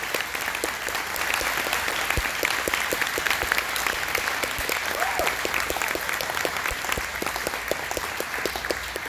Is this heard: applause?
yes